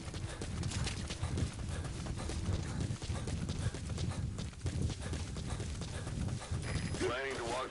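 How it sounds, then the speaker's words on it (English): Horse hooves clip-clopping in a rhythmic gallop inside Metal Gear Solid V: The Phantom Pain, steady and close, layered with game sound effects and a brief whinny-like sweep near the end. "Planning to walk the whole wilderness on foot? Use your horse."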